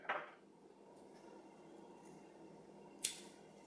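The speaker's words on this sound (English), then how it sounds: "take my bucktail, trim close to the hide" Scissors snip bucktail hair close to the hide for a Lefty's Deceiver fly, two short, faint, crisp cuts about three seconds apart with quiet room noise between.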